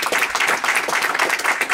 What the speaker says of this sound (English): let's please give him a wonderful round of applause